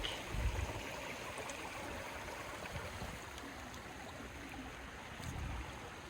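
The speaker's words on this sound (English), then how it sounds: "One of the most beautiful sounds in nature, a bubbling creek." Soft, steady burbling of water flowing over rocks in Sweetwater Creek, Georgia, quiet and continuous, with no voices.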